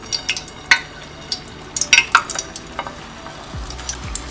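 Potato cheese balls frying in hot oil give a steady close sizzle, broken by scattered crackles and pops and a few light clinks of a utensil or pan.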